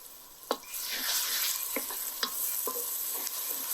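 Fried onions with turmeric stirred in a pan for chicken fry piece biryani, bright continuous sizzling with several crisp spatula scrapes and clicks spaced about half a second to a second apart, close and alone.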